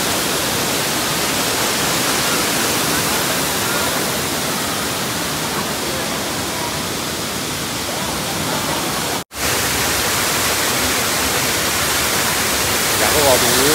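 Waterfall at Curug Cipamingkis in Sukamakmur, Bogor, roaring as a steady, loud broadband rush of falling water that fills the whole stretch, with a brief dropout partway through.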